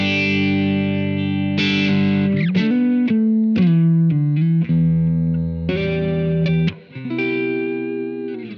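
Electric guitar played through a Blackstar Amped 2 amp modeler set to a mostly clean tone, ringing out sustained chords and single notes with some effect coloring, loud and close, no talking.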